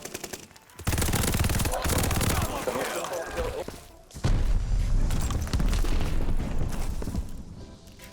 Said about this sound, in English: It is pretty fun to use these light machine guns when you got some enemies like this